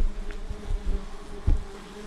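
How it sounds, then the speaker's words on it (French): A swarm of wasps buzzes steadily around their nest inside a cardboard box packed with insulation, a close, continuous drone with a few louder passes of individual insects near the end. "Impressionnant toutes ces guêpes."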